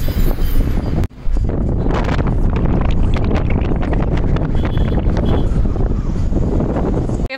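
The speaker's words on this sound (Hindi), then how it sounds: "बाहर अच्छी ठंडी हवा चल रही है" Cold wind blows steadily across the microphone outdoors on a foggy hill road, a loud continuous rumbling roar with brief dips, no voices heard.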